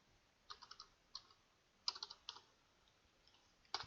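Short bursts of keystrokes on a computer keyboard, typed in a few quick clusters with pauses between them, crisp and close but fairly quiet, with a heavier single tap at the end like an Enter key.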